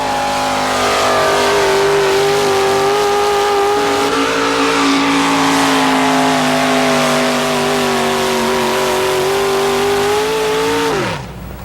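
GMC drag racing truck at a 1987 strip event accelerating flat out down the track, a loud sustained engine roar that climbs gradually in pitch, then cuts off abruptly at the end.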